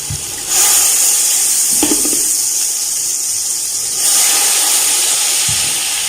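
Water poured into a hot pan while cooking chicken matar pulao, a loud steady hiss and sizzle with a couple of brief splashes, close by and unbroken, swelling again near the end.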